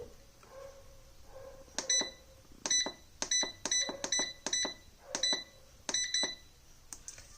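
An air fryer's control panel being set to 160 for crisping papad gives a run of short, sharp electronic beeps, about nine separate bleeps in uneven succession, close and clear over a quiet background.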